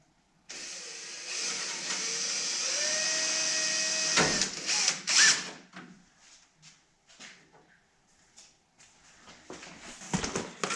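A power drill whirs steadily for several seconds, its pitch shifting as it bites through the metal hood of a Dodge Charger Super Bee, then stops, followed by scattered clunks and handling noises.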